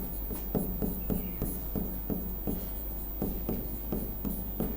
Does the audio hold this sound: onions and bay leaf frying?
no